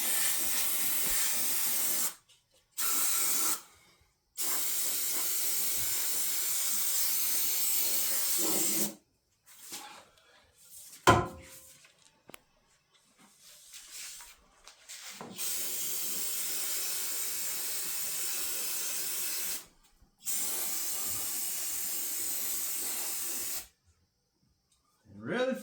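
An aerosol can of brake cleaner sprays in long hissing bursts under a vehicle during an oil change, several sustained blasts separated by brief silences, with some clattering and handling noise in a quieter middle stretch.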